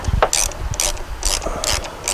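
Hand ratchet clicking in repeated bursts while tightening the battery terminal clamp on a Ford Escape, a crisp, close pawl rattle in about five quick strokes with short pauses between them.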